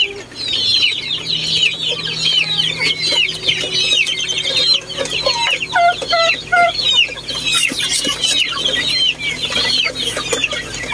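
Chickens on a farm cluck and chatter in a busy, overlapping flock, with rising calls clustering loudly midway and a low steady hum underneath, no talking.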